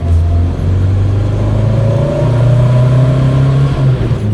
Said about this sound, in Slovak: dáme jednu akceleráciu z dvojky, čo to spraví?